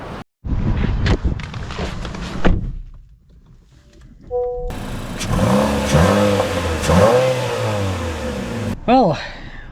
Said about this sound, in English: let's see how it drives